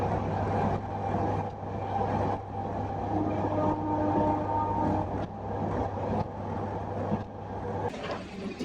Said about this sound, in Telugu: తెనాలి జంక్షన్లోకి మన ట్రైన్ ఎంటర్ అయింది